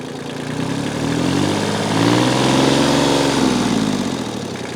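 A Kubota L245H tractor engine is given hand throttle. Its steady diesel chug rises in pitch and loudness to a higher rev, holds there, then eases slightly, running close and loud with no talking.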